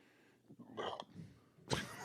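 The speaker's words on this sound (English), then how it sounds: "That was a velociraptor burp." A man lets out a velociraptor-like burp into a microphone during a casual beer talk, a rough throaty belch that comes in two bursts, the second louder and closer, with short gaps of quiet around them.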